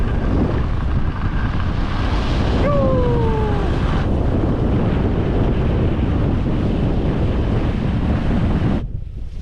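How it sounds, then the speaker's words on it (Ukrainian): Heavy wind at the Trysil ski resort in Norway roars and buffets the microphone continuously, loud and close, with a faint falling whistle briefly heard through the rush. "Але вітер просто капець."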